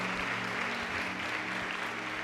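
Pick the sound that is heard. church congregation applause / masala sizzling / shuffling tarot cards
church congregation applause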